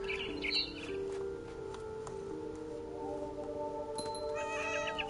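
Bird chirps sound inside the video game What Remains of Edith Finch, thin high tweets scattered across the clip and clustering toward the end, laid over a sustained tonal musical backdrop at modest volume.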